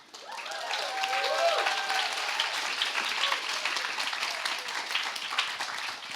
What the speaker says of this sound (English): So a round of applause for Kevin to battling through